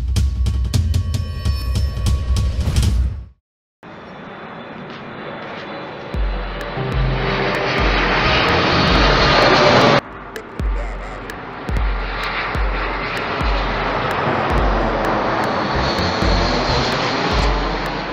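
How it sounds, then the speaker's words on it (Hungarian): Landing airliners pass low over a house near Ferihegy airport in Budapest, a loud roaring engine drone that cuts out briefly, then builds again into a sustained, swelling rush as a plane sweeps overhead. "a leszálló repülők pont itt jönnek el a ház fölött"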